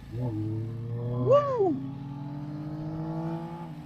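A Yamaha Tracer 9GT+ with its CP3 engine runs at a steady drone, then briefly revs up and back down before settling into an even hum.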